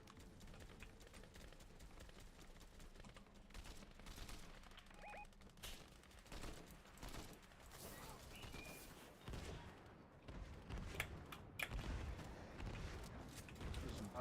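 Video game gunfire: repeated shots and bursts crackle over a busy game soundscape, fairly muted and mid-distance, with voices occasionally mixed in.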